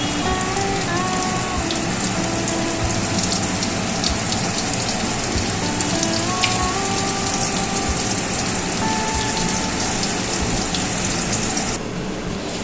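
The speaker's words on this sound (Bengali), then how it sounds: "বাকিগুলো একইভাবে ভেজে নেব।" Chicken fingers frying in hot oil give a steady, dense sizzle and crackle that holds evenly close by for the whole stretch, with no talk.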